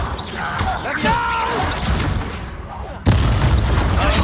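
Confringo and Incendio spells exploding in Hogwarts Legacy, booming magical blasts with whooshing and crackling, ending in one sharp loud impact, mixed with game combat noise.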